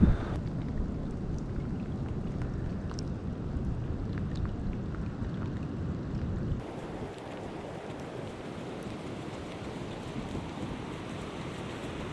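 Steady rain hissing on Agate Beach in Newport, Oregon, with a low rumbling wash underneath, continuous and fairly soft, easing slightly partway through.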